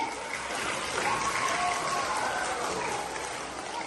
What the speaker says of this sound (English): A big clap for him.